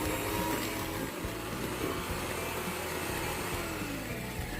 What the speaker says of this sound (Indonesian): mixer dengan kecepatan mulai dari yang terendah sampai pakai kecepatan yang paling maksimal